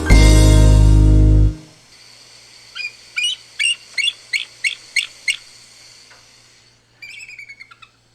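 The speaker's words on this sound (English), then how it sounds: "It's going to be a bald eagle." A bald eagle calls in a series of high, thin chattering piping notes, about eight evenly spaced, followed after a pause by a quicker burst, clear and near against quiet background.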